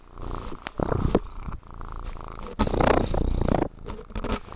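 Cat purring while rubbing against a microphone, a close, loud rumbling purr broken by rustling bumps and scrapes of fur against the mic.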